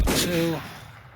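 A shotgun fires once in a video game, a sharp close blast right at the start that quickly decays, followed by a brief voiced sound.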